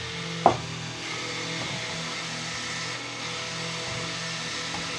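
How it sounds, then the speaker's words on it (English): A stick blender whirs steadily through a batch of charcoal facial soap batter with tea tree essential oil, a continuous motor hum after a brief knock at the start, close and even in level. "use your stick blender to get that fully mixed in."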